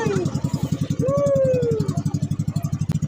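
A misfiring motorcycle-type engine sputters and chugs in a steady rapid rhythm of close, loud pulses that falter briefly before settling into an even idle, with a voice speaking over it.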